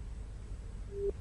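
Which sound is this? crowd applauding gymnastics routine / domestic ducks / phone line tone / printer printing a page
phone line tone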